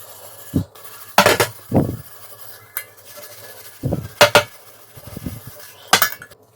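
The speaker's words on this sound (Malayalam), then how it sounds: "നന്നായിട്ടൊന്ന് സ്ക്രബ്ബർ വെച്ചിട്ടൊന്ന് തിരുമ്മി കൊടുത്താൽ തന്നെ ഇത് നല്ല കളറ് കിട്ടുന്നതാണ്" A scrubber rubs and scrapes against a copper-bottomed cooking pot in short, irregular bursts with brief pauses between strokes, close by and without speech.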